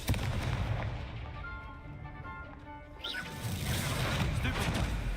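A Confringo blasting spell in Hogwarts Legacy bursts with a loud crackling, fiery whoosh and rumble, preceded by a steady hum and rising again in a sustained noisy roar.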